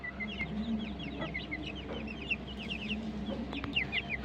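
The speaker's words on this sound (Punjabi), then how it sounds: "ਦੇਖੋ ਚੂਚੇ ਆਪਣੇ ਚੂਚੇ ਦੇਖੋ ਦੇਖੋ" Chickens cluck softly while chicks peep in quick high chirps throughout, steady and fairly close, with no talking.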